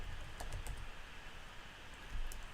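Typing on a computer keyboard, soft scattered keystrokes close by with a few louder clicks, no talking.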